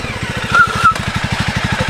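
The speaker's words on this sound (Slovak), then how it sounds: "Keď ste na motorke, tak je to príjemné, že máte ten zvuk, ktorý by ste chceli" A Jawa 300 CL motorcycle engine idles close by with a steady, even thumping pulse, running alone without speech.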